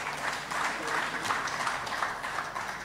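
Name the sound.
audience applause, hearty clap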